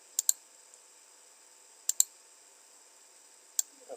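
A computer mouse clicks crisply while working in Revit software: two quick double-clicks a couple of seconds apart, then a single click, sharp and close in an otherwise quiet room.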